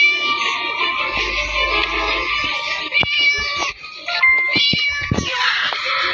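A house cat meows loudly and close by, giving a run of drawn-out, wavering cries with short breaks between them and some faint background noise.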